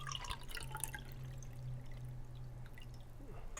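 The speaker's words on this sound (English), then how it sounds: "I'm gonna pour some water in there and see how watertight it is on the bottom" Water poured into a measuring container to test whether its bottom is watertight, a soft, fairly faint stream with scattered drips and splashes that runs steadily for several seconds.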